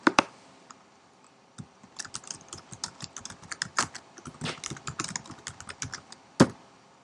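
Quick, irregular clatter of keys on a computer keyboard as a comment is typed, bursts of sharp clicks with short pauses, close and clear with no voices.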